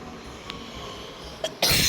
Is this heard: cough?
yes